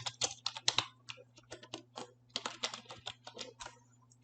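Fast, light clicking of typing on a computer keyboard, close and quiet, in bursts of keystrokes with brief pauses, over a faint steady electrical hum and no talking.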